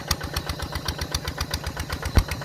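A walking tractor engine chugs steadily during a first plowing test, with a fast, even pulse, close and loud throughout, and one heavier thump near the end. No one speaks.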